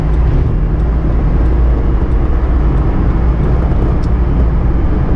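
A 1991 Subaru Sambar Dias II van with a supercharged engine pulls steadily uphill on a highway, its engine drone and road roar loud and constant from inside the cabin with no letup.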